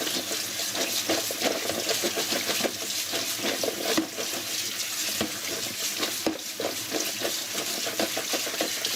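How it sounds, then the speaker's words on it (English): About a kilogram of fresh strawberries is rinsed under a running kitchen tap, a steady close hiss of water broken by soft splashes and knocks as the berries are moved about. "what I have here is about 1 kilogram of strawberries. And of course, I'm going to wash them first."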